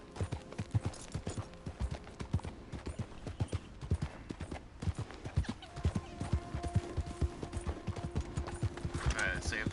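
Horse galloping in Red Dead Redemption 2, a fast, steady rhythm of hoofbeats close up with occasional snorts and tack jingles, while a rider's voice speaks over it.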